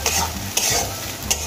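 Ground prawn-head paste frying in oil, with steady close sizzling and a few sharp spatula scrapes against the pan over a brief stretch.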